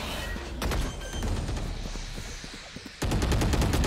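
Rapid gunshots crack out in a Valorant match, dense bursts of fire running throughout, with a louder cluster near the end.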